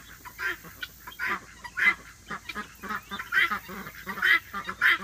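Young guinea fowl crowded in a crate on a farm, calling in a rapid, uneven series of harsh honking chirps, close and overlapping with no talk.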